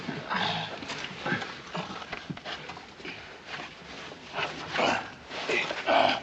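Hooves clop steadily across a noisy outdoor scene, with scattered voices and shuffling mixed in throughout.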